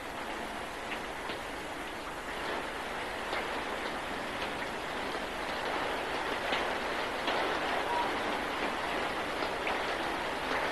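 Steady rain falls as a dense, even hiss throughout, with faint scattered taps on a surface and no voices.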